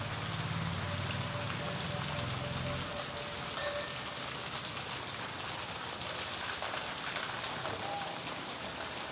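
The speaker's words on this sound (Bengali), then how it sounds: "সকাল থেকেই বৃষ্টি দেখা যায়।" Steady rain falls on surfaces in a continuous dense hiss throughout, with a low rumble underneath at the start that fades after a few seconds.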